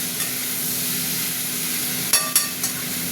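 Ridge gourd and potato with poppy seed frying in a pan, giving a steady close sizzle and hiss with a few sharp stirring scrapes near the end and no talking.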